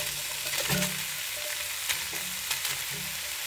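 Sausage, bacon and potatoes sizzle in a pot for cowboy stew, a steady frying hiss with faint stirring scrapes and small pops, moderately quiet and without voices.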